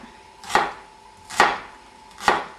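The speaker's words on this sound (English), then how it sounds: "And then chop it radially." A kitchen knife chops through an onion set on its side, cutting radially on a board: three crisp, evenly spaced chops, close and fairly loud, with no talk.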